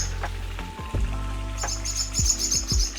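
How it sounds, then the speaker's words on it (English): Birds chirp in short, repeated calls around nests on a porch beside a pool and waterfall, heard over a steady low rush of falling water. "I'm hearing birds, I'm hearing water."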